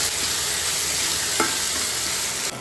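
Capsicum, onion, ginger-garlic paste and tomato fry in a pan, a steady close sizzle with a brief stirring scrape midway and a small clatter near the end.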